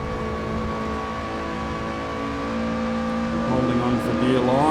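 A Lotus Elise SC RSR is driven on the Mount Panorama Bathurst circuit, its engine holding a steady in-cabin drone before revving harder and climbing in pitch near the end.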